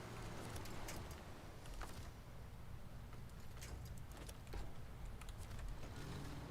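A truck engine in SnowRunner strains up a very steep slope, heard as a steady low drone that sits close and loud throughout, with brief higher clicks and bursts over the top.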